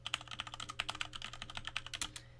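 Keys clatter in quick, uneven bursts as a Linux firewall command is typed on a computer keyboard, close and clear with no talking over it.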